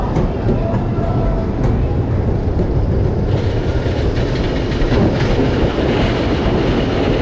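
GCI wooden roller coaster train at Efteling theme park rumbling along the track, a loud, continuous rattling roar with clattering wheels heard from on board, steady for the whole stretch.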